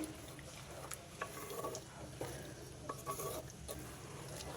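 A chicken and drumstick curry with masala paste and water is stirred in a pot, producing soft intermittent scraping and gentle bubbling sizzle at a low level, with no talking.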